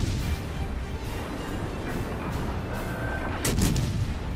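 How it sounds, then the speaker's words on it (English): Naval guns fire in the World of Warships game while a tier 4 Jaguar destroyer engages in ranked battle. Dense, continuous battle rumble with a louder salvo burst near the end, and no talking. "So that's why I'm turning and start shooting."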